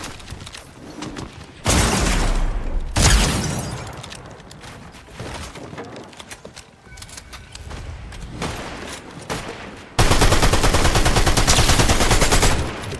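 Fortnite gunfire on PC: loud bursts of rapid automatic fire and sharp single shots, with heavy blasts around two, three and ten seconds and quieter shooting and game noise between.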